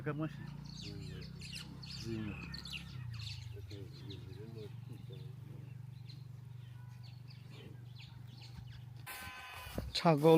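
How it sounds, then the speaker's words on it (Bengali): Goats on a cattle ranch in Uganda bleat intermittently over a steady low hum, with people talking throughout and a burst of louder noise near the end. "ছাগল"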